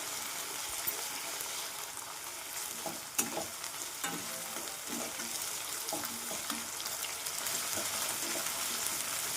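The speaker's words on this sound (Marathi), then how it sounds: "छानपैकी लाल होत नाही तोपर्यंत आपण फ्राय करणार आहे कांद्याला कांदा लसूण हिरवी मिरची कढीपत्ता" Onion, garlic, green chilli and curry leaves fry in oil for a masoor dal dish, a steady close sizzle with scattered stirring clanks and scrapes, strongest in the middle, with no speech.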